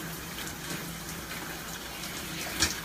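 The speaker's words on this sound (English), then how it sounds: "So I'm just rinsing all the conditioner out." A shower runs in a steady, even rush while conditioner is rinsed out of hair, with a brief splash or knock near the end and no voices.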